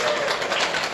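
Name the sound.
audience applause for the host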